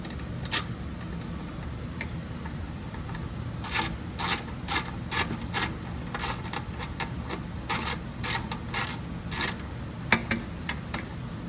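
An 8mm socket on a ratchet wrench turning a fastener during final assembly of a Briggs 130G32 engine, sounding as clusters of rapid, crisp clicking bursts with brief pauses, fairly close over low background hum.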